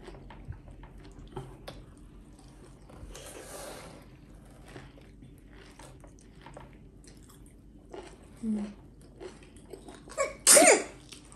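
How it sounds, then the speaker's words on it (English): A person sneezes close by near a plate of food, a sharp burst near the end after a stretch of quiet chewing, shuffling and small coughs. "You want to sneeze on my food?"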